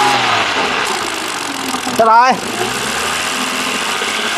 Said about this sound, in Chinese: 油门加到2500的时候放掉，会有个啦啦啦啦啦啦啦的声音